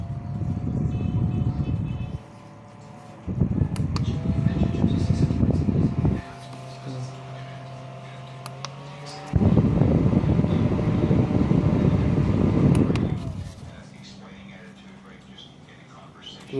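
A Firefly FEL651 multifunction table fan runs with a steady airy whoosh that alternates between louder and softer speed settings, with a faint low hum and soft voices in the background.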